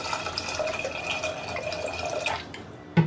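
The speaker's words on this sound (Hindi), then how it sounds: "पानी डाल के इसे तीन बार धो लेते हैं।" Water poured and sloshing over toor dal in a pressure cooker as the lentils are rinsed, a steady close trickle and splash with drips, ending in a brief louder clatter.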